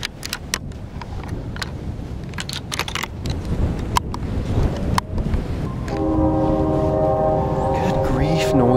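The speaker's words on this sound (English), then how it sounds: "It's pretty windy out this morning." Strong wind gusts through trees around a tall deer-hunting tree stand, a loud buffeting rush, with a distant train horn and siren sounding steadily in the last few seconds.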